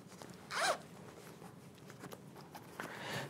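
A zipper on a men's Lacoste hoodie gives one quick, crisp zip close by, then soft rustling of the fabric as it is handled, with no talking.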